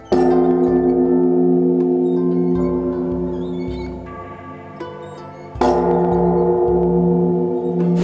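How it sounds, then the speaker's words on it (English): A large Japanese temple bell rings loudly, its deep tone sustaining and slowly fading, then struck again with a fresh resonant boom. "Just made it for the ringing of the bell"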